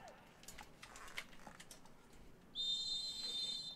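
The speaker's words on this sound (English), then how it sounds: "And there is the whistle." A referee's whistle blows a long, sustained shrill blast to start a professional women's soccer match at a stadium in Irvine, California, sounding over faint crowd murmur.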